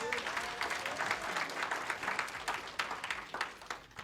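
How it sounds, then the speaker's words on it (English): Audience applause at a community gathering, a steady wash of many hands clapping at moderate distance, continuing throughout at an even level. "we'll give him another round of applause"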